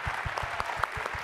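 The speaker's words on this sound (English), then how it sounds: "let's give a round of applause to John Mark." An audience claps at an education panel event, steady applause with a few sharper individual claps standing out, moderately loud and without talk over it.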